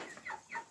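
A few short, soft clucks from chickens in a backyard coop, three quick separate calls close by but quiet.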